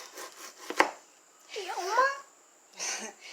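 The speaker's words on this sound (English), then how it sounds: "Slice the potatoes." A knife slices raw potatoes on a board, one sharp chop followed by short scraping cuts, with a person speaking briefly between them.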